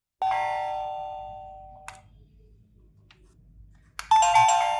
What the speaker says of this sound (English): press the doorbell button and the top button of the chime at the same time for 5 to 6 seconds